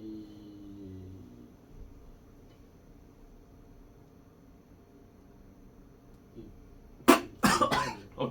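A few sharp, loud coughs burst out close by near the end, after a long quiet stretch with faint background voices at the start.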